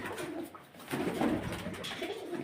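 Soft, low pigeon coos repeat in a murmuring rhythm, close by, over faint background noise with no talking.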